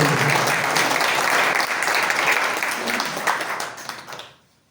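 Audience applause at a rehab centre event, a dense burst of clapping from a crowd that holds steady for a few seconds and then tapers off and fades out.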